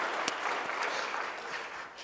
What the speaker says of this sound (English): can I please just ask a round of applause for these two folks?